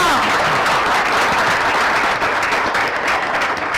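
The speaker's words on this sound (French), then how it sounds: "Ça mérite quand même des applaudissements." Steady applause from a large audience, loud and continuous throughout with no breaks.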